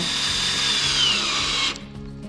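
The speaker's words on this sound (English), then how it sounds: "Okay, nice and straight, and drive that screw down." A cordless power drill drives a screw into a wooden board, a high whirring motor whine that holds for under two seconds and then cuts off abruptly.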